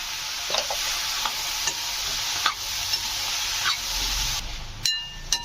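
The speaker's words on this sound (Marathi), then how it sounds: "आपण आता दोडकीच्या फोड टाकून घेऊया" Ridge gourd pieces sauté in a hot pan with soaked lentils, giving a steady sizzle broken by regular scraping stirs of a spoon and a metallic clink near the end.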